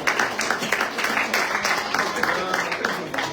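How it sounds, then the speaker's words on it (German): A congregation at a bilingual German and French church service claps together in a lively, sustained round of applause, with individual claps audible through the crowd noise. "den einen Applaus geben."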